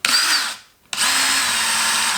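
A power drill fitted with a detailing attachment whirs loudly, stops briefly, then spins up again and runs steadily at high speed.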